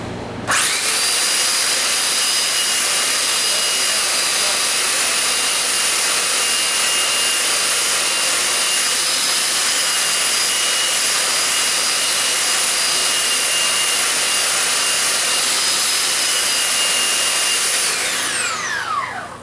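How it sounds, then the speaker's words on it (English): A power sander grinds steadily across a wooden board, a loud, continuous high whine that starts abruptly, holds for nearly twenty seconds and then winds down, with no talking. "all you gotta do is take your sander like I'm about to do here"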